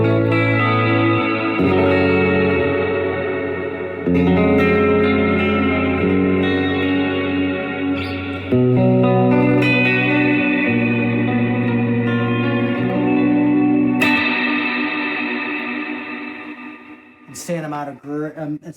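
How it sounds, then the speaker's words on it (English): A guitar pedal set to hall reverb gives a lush, shoegaze-style wash: loud, sustained chords bloom and smear into a long tail, then a brighter strummed passage swells before the sound fades out near the end. "Insane amount of awesome reverb there."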